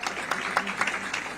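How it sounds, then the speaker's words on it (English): A short burst of audience applause for dignitaries on a stage at a conference, with individual claps standing out in an uneven, fairly close rhythm. "Let's have a big round of applause for"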